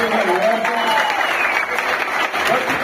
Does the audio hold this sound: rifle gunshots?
no